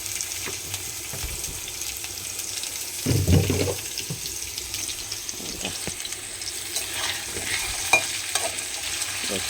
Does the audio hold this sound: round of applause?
no